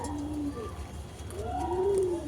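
Pigeons in a loft, including a Malbai pair sitting on eggs, give a few close, low, rolling coos that rise and fall over a steady background murmur of other birds.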